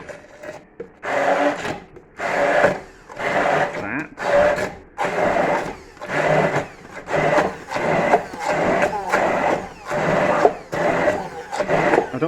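Short bursts of a kitchen blender pureeing peas into a smooth pea puree for a pea and bacon pasta, pulsing repeatedly on and off at close range, with brief pauses between runs.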